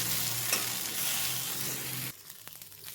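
Cumin and coriander seeds frying in a pan of oil for peanut chutney, a steady close sizzle with occasional stirring scrapes that drops abruptly to quieter crackling near the end.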